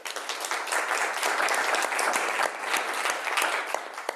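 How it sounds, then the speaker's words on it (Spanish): Audience applause for a panelist being introduced at a business innovation panel, a dense, steady clatter of many hands that holds for the whole stretch with no talk over it. "Les pido un aplauso, por favor."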